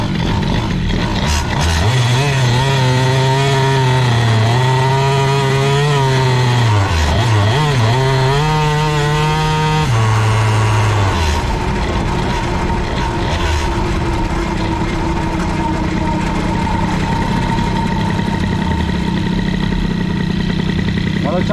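A moped fitted with an Airsal T6 65 kit and running rich buzzes loudly up close, its two-stroke engine note rising and falling through several revs before settling into a steadier drone.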